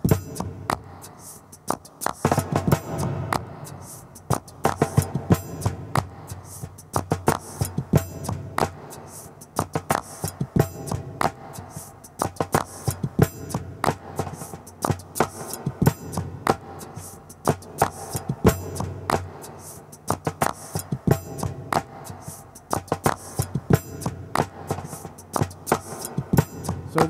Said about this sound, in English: a drum. It's called the Spanish Cajon.